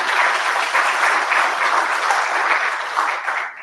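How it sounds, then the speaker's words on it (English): Sustained audience applause from a panel session at a health expo plenary, dense steady clapping from many hands throughout, fading slightly at the end. "can you just give an applause for the panel before I close?"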